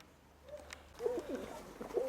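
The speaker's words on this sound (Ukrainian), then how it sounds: "Так, увага, показую, ось голубка прийшла." A pigeon coos several times nearby, soft low throaty calls repeating over a faint background.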